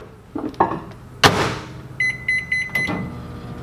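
A few clicks and a microwave door thud, then a short series of high electronic beeps in a steady rhythm, close by with a quiet background.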